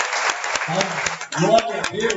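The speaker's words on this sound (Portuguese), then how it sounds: "Pode aplaudir o Senhor Jesus" A church congregation applauds during a worship service, a broad wash of clapping running throughout beneath a voice speaking over it.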